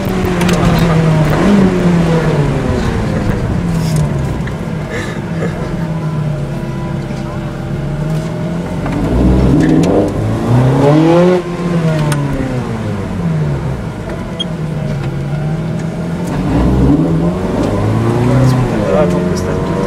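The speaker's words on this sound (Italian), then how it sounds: "fa un rumore allucinante sta macchina" Ferrari 430 Scuderia V8 rises and falls in loud, repeated revving sweeps from inside the cabin as it accelerates and shifts, with people talking over the engine.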